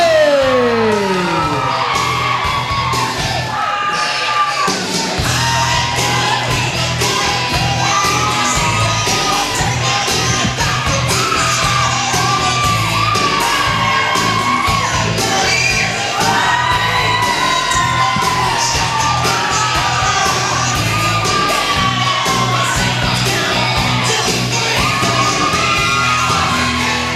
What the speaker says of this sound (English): Those screams can only mean one thing.